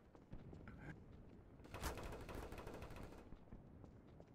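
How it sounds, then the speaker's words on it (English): Rapid bursts of automatic gunfire in the game Trouble in Terrorist Town clatter for about a second and a half mid-clip, fairly faint and distant in the mix, with scattered thumps before and after. "I don't know who's shooting who."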